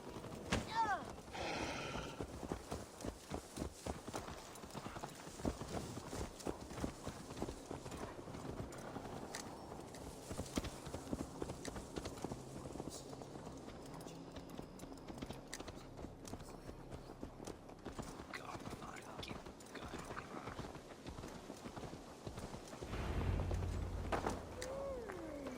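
Horse hooves clip-clop steadily at a walking pace in Assassin's Creed Valhalla on PS4, close and continuous through the whole stretch, with in-game voices talking over the hoofbeats.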